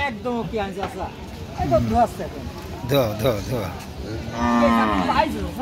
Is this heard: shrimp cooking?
no